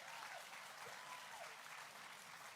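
A crowd at a political rally bursts into brief, steady applause, a dense wash of clapping that sounds somewhat distant and muted, with faint voices underneath.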